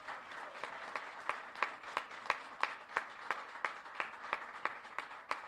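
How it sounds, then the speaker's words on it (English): A small group of young people at a youth and college lobby day claps, sounding faint and sparse, with distinct individual claps at a steady rhythm standing out over the thinner group applause. "Young people, please give yourselves a round of applause for coming on out."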